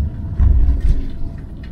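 A motorhome rolls into a riverside pitch at Traben-Trarbach, its low engine rumble steady and close, swelling briefly in two soft surges as it creeps forward, with no talk over it.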